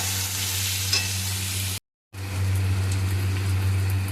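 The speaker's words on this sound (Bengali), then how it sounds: "পেঁয়াজটা যাতে তাড়াতাড়ি ভাজা ভাজা হয়ে যায় সেজন্য আমি দিয়ে দিচ্ছি অল্প একটু নুন" Onions with a pinch of salt sizzle steadily in a pan while being stirred, a loud continuous frying hiss with a brief cut of silence midway; no talking.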